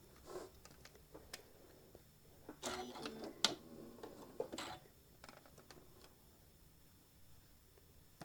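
A sewing machine stitches fabric down with short bursts of quick mechanical whirring and clicking, quiet at first and busier in the middle, against low room noise.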